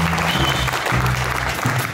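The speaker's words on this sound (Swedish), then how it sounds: "Gärna en stor applåd hörni" Steady applause from a live concert crowd greeting the band's bass player, dense and continuous with low sustained instrument notes ringing underneath.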